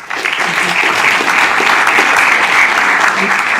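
Steady applause from an audience fills a city council regular meeting, dense continuous clapping that stays loud throughout, with voices murmuring underneath.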